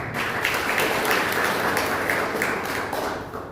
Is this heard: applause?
yes